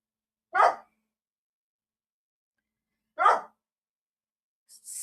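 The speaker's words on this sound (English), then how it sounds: "Quit barking at me." Two short, sharp dog barks spaced a few seconds apart in a quiet room, followed by a brief higher yelp at the end.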